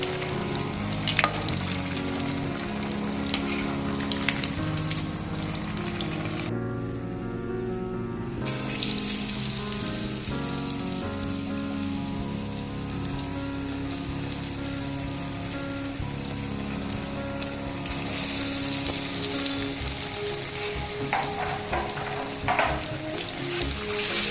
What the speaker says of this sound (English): Now we just turn them nicely and fry them up a little bit